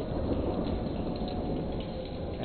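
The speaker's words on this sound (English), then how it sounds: "It was this constant thunder that you hear." Heavy rain and a deep continuous rumble of thunder during a lightning storm in Beatrice, Nebraska, loud and unbroken for a couple of seconds with no voices.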